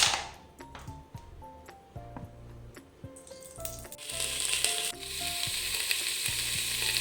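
Clattering clicks and scrapes give way to a loud, sustained sizzle as onions hit hot mustard oil in a pressure cooker over a high flame, the frying hiss continuing strongly to the end.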